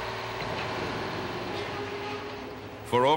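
A railway train rolls through Moncton, New Brunswick, a steady broad rumble heard from some distance that holds evenly, with a brief tonal, horn-like sound rising right at the end.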